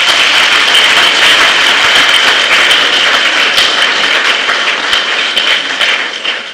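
A crowd at a stakeholders' engagement event claps loudly and continuously, a dense wash of applause that stays strong and then begins to thin slightly near the end.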